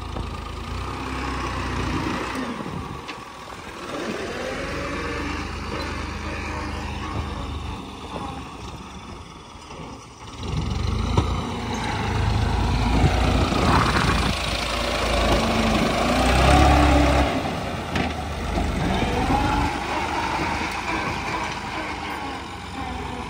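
Small tractor engine running steadily while a trolley is filled, a continuous low idling rumble with a slight rise in load partway through, close and unbroken for the whole stretch.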